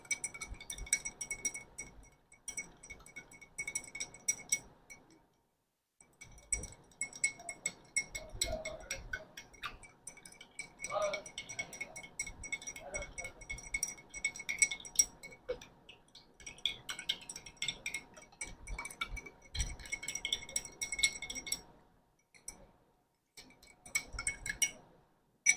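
A metal spoon stirring sugar into water in a glass, giving faint, continuous light clinks and ticks against the glass in an irregular rhythm, heard close up and quiet.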